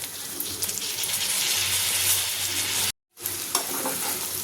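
Sabudana khichdi being stirred in a hot pan, a steady sizzle and scraping under continuous stirring, close and fairly loud, with a brief cut to silence near the end before the stirring and sizzling resume.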